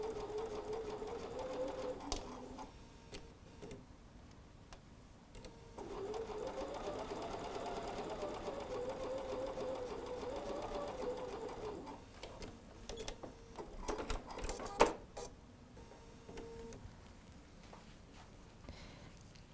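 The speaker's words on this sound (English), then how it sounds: "Here, I'm just now sewing the little kind of edge of my presser foot is just going to ride along that." A sewing machine stitching quilt fabric pieces for a pieced tulip block runs in steady whirring bursts with brief pauses, close and moderately quiet, with faint bird cooing in the background.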